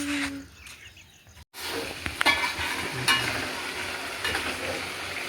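Sambal sizzles and fries in a pan as it is stirred, with a steady close crackle running through after a brief quiet gap and a few light clinks.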